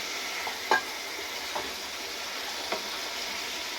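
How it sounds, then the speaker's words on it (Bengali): Fried pointed gourd being stirred with cooked-down spices in a pan, a steady low sizzle with a few soft scraping knocks of the spatula, fairly close and quiet, no voices. "পটলটা দিয়ে ভালো করে নাড়াচাড়া করব মশলার সঙ্গে।"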